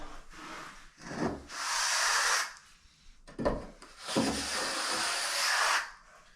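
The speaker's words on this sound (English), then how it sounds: "And just hit it with this trowel." Steel trowel dragged across dry pack mortar while shaping a shower pre-slope, giving two long gritty scraping strokes separated by short rubbing passes, close and moderately loud with no voices.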